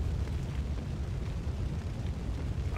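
Fire roars in the video game Max Payne 2: The Fall of Max Payne, a dense, continuous low rumble with crackling texture that stays steady and loud throughout.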